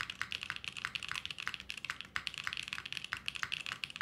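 Custom-built mechanical keyboard with solid alphas typed rapidly up close, a fast clacky stream of keystrokes with occasional deeper spacebar thocks, no talking.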